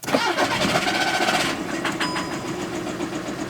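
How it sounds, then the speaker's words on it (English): A cheap used car, bought with a suspected blown motor, starts at the turn of a key: a brief cranking whir catches into a running engine idling roughly and unevenly close by. "We're gonna go ahead and turn the key on, put our foot on the brake, and let's see"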